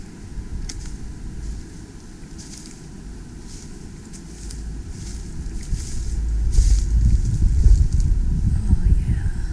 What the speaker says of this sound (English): We've got a beautiful north wind,